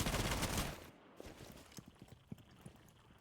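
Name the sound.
wall bang gunfire in video game Rainbow Six Siege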